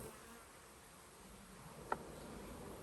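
Honey bees at a hive drone with a soft, steady buzz after a frame is lowered in, faint and continuous, with a single small knock partway through.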